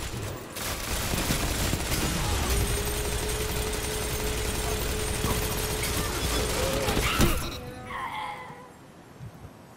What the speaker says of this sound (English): It feels better to shoot.